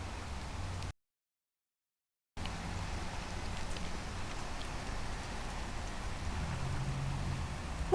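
Steady rain pours down in a constant hiss, with a brief dropout of silence before the downpour resumes at an even, moderate level to the end.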